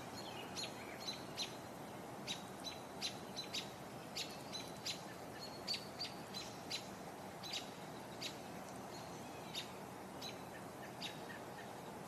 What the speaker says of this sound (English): Hearing robins. I just heard a catbird.